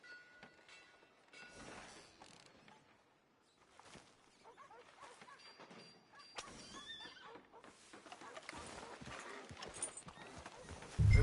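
A horse neighs and its hooves clip-clop in Red Dead Redemption 2, the hoofbeats fairly faint at first and then growing busier and louder as the clip goes on, with no talk over them.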